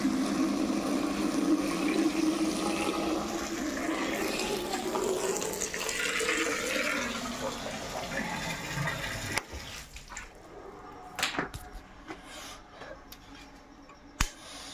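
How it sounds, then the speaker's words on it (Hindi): Tap water runs steadily into a container, filling it with a rushing, rising tone before the flow stops and a few clicks and knocks follow; no one speaks. "तो भर गया देखो पानी"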